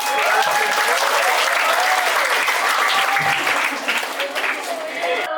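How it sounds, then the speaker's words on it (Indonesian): Campers at an English and character camp clap together in a steady, dense burst of applause that carries on for several seconds, with a few voices rising through it. "Tepuk tangan dong."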